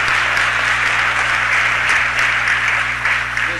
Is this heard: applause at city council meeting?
yes